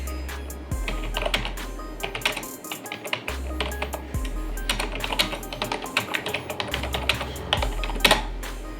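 Someone types on a computer keyboard, producing close, quick bursts of key clicks separated by short pauses and a few louder keystrokes, with no voices.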